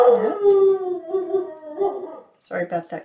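Dogs howl indoors in a long, wavering, fairly loud wail that fades out, followed by someone talking briefly.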